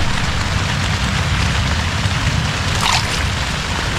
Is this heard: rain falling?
yes